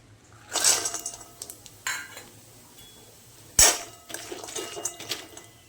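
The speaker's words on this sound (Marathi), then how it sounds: "आता हे सांडगे आपल्याला ना तेलात जराशी भाजून घ्यायचे." Sandge, dried lentil dumplings, roasting in oil in a pan: several loud, close clatters and scrapes of a spoon against the pan, separated by quieter stirring and a faint sizzle.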